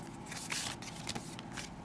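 Close, brief papery rustling and sliding as paper card bases for handmade holiday cards are handled and shuffled together, a dense crinkly texture with no voices.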